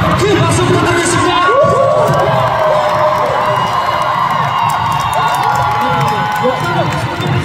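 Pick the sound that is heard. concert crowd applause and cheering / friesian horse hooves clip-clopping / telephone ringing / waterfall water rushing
concert crowd applause and cheering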